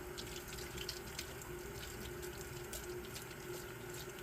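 Steady tap water pours continuously into a sink, rinsing a salted red snapper, with a constant hiss and splash and no voices.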